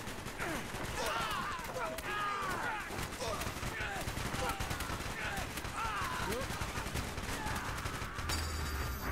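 Continuous gunfire and explosions fill a battle in Call of Duty: Black Ops set in South Vietnam, loud and dense throughout, with voices talking over the shooting.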